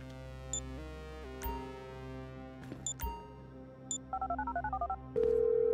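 Phone keypad tones in GTA 5 used to set off a bomb: a quick run of about ten sharp, evenly spaced dialing beeps over a steady low game hum, followed by one sustained tone, with a few clicks and thumps before.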